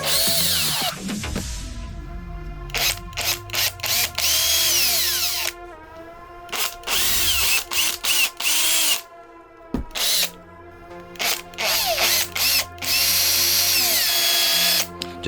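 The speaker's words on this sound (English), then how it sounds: "Just be very, very careful if you use a drill, not to drill into your phone." Power drill boring holes into a 3D printed plastic phone case for a Samsung Galaxy S23 Ultra, loud whining bursts starting and stopping repeatedly, close up with no talking.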